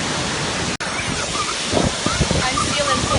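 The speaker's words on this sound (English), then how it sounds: "I'm still in Kulen Waterfall." Rushing water at Phnom Kulen Waterfall near Siem Reap, Cambodia, a steady close hiss and roar of falling water, briefly cut out, with faint murmurs of people in the background.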